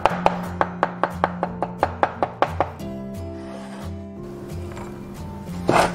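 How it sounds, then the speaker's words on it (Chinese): Garlic cloves chopped with a knife on a board, a quick run of about a dozen sharp, evenly spaced close knocks, then quieter scraping and a brief rustle at the end. "准备几颗大蒜，先拍碎"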